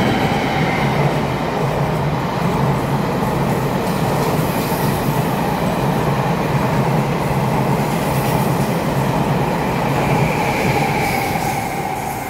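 A silver-green Taiwan Railway EMU900 ten-car commuter train, set EMU936, departs Keelung, its wheels rumbling and rail noise holding steady and loud throughout, with faint squeals riding over the continuous roll.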